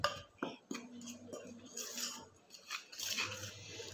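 Sakroli ingredients are mixed in a bowl, giving quiet, irregular clinks and scrapes of a spoon against the bowl, with short bursts separated by softer gaps.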